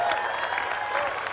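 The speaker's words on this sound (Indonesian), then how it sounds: "Tepuk tangan sekali lagi, semua boleh." A studio audience on a dating game show claps in a brief, steady round, with a little crowd noise and a faint voice mixed in.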